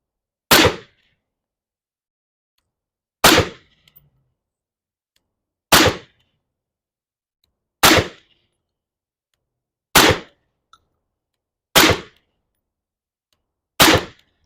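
Suppressed gunfire from a firearm aimed at a target head box: seven loud, sharp single shots spaced about two seconds apart, each cracking hard and decaying quickly into silence.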